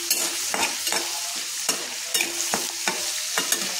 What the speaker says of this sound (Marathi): तर अगोदर असे मेथी दाणे छान असे भाजून घ्यायचे.